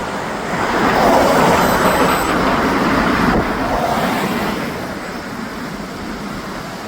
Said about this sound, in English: Just for some reason the road's really busy today.